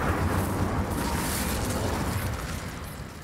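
Incendio fire spell cast in Hogwarts Legacy, a dense roaring burst of flame that holds steady for about three seconds, loud and close, then starts to fade.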